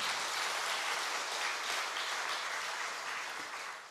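Congregation applause at a Korean early-morning Friday prayer service, a soft, even roar of many hands clapping that holds steady and tapers slightly at the end.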